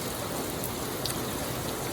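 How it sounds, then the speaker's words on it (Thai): Steady morning rain falls continuously, a dense even hiss of drops on surfaces with no break across the stretch. "สวัสดีบรรยากาศ ฝนตกครับ"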